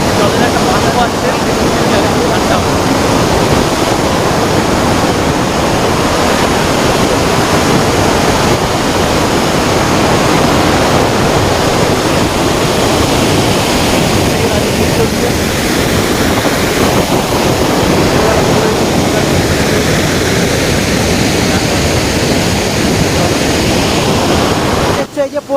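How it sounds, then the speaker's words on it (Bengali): Waterfall in Tamil Nadu with fast, forceful water pouring down, a loud, steady broadband roar filling the whole stretch without pause, close by and unbroken. "এখান থেকে যে জলের একটা ভাষা আসছে"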